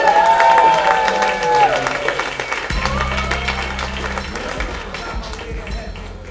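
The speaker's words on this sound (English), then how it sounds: "Big round of applause for Andrew Penge." A comedy bootcamp audience bursts into loud, sustained applause and cheering as comedian Andrew Penge is welcomed to the stage. The clapping continues steadily throughout, mixed with crowd noise and a few sustained tones.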